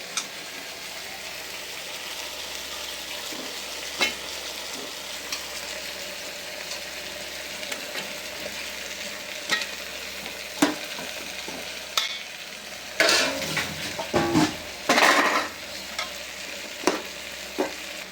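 Onions, mint and coriander frying in oil for chicken biryani give a steady close sizzle, broken by scraping stirs of a spatula and a few louder clatters near the end, with no talking.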